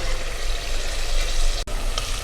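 Mutton pieces frying in oil in a pot for kachnar gosht, a steady close-up sizzle running throughout with one brief dropout near the end, no voices.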